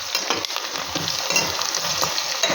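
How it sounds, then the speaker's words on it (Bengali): Onions frying in a cooker pot for mutton kosa, a steady loud sizzle with stirring clatter throughout, no talk. "এই যে পেঁয়াজ আমার ফ্রাই হয়ে গেছে"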